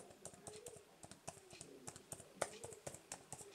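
Rapid clicky typing on a Microsoft Surface plastic keyboard cover, close and light, with irregular keystrokes tapping along in quick bursts and no voices.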